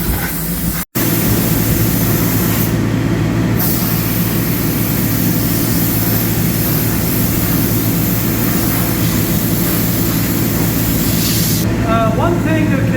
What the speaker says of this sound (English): Whenever you see a harness, just spray right over it.